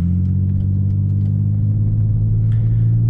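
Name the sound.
car engine at low revs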